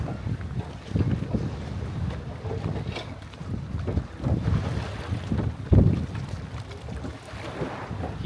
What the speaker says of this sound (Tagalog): Ang sarap ng breeze ng hangin, ang lamig kasi malapit sa lake eh.